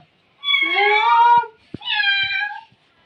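A cat meows twice nearby, each call long and drawn-out, with a short gap between them and a few small knocks in the background.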